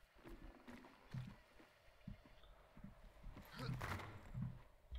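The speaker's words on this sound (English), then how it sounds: "I think that's where the horse is," A horse in Hunt: Showdown, faint hoof clops and a distant whinny beneath quiet rustling, with people talking softly.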